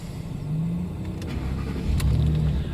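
A 2010 Ford F-150 engine runs steadily and close by, its low rumble rising slightly toward the end, with no speech over it.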